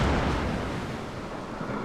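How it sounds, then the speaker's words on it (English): Heavy battleship shell salvos bursting around a German tier-8 premium battleship in World of Warships, a deep, continuous rumbling roar of explosions and churning water with no distinct individual blasts. "I am worried about all these big salvos coming at me"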